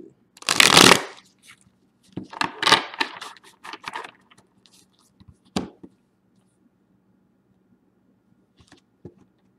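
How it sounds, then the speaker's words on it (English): Tarot cards are shuffled in a couple of quick riffling bursts, followed by scattered soft taps and card handling, close and clear with no talking. "And your last shuffle for solicitation."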